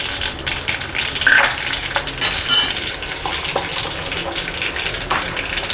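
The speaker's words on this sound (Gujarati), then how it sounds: "લીમડાના પાન નાખી દેશું" Steady crackling sizzle of curry leaves dropped into hot oil with mustard and sesame seeds, close and continuous, with a few brief louder spits.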